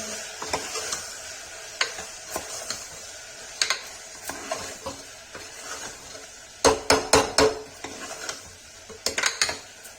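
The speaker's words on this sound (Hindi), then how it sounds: "सौंफ डाल दिया थोड़ा सा, इसको चला देना अच्छे से, भून देंगे" Fennel seeds roasting in a pan while a spoon stirs them, giving a soft sizzle under repeated sharp metallic scrapes and clinks, with a quick cluster of taps toward the end.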